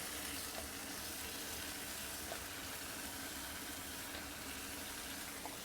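Onions fry on a hot Blackstone griddle for birria quesa tacos, making a continuous, even hiss at moderate volume with a few faint ticks over it.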